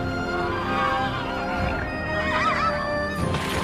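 Several horses whinny and neigh in a dense, busy outdoor scene, with faint hoof clip-clop mixed in and a continuous layered background; the calls rise and fall across the whole stretch without pause.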